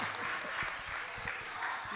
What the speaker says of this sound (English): Clap your hands for Trazel.